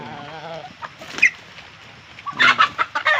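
Several chickens cluck close by in short, bursty calls, some louder squawks breaking out among them.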